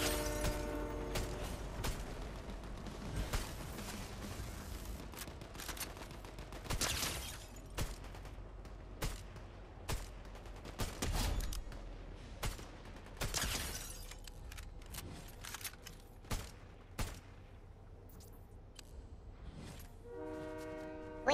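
Scattered gunshots crack out at irregular intervals in a Fortnite Zero Build match, sharp and fairly distant, with a horn-like in-game tone sounding near the start and end.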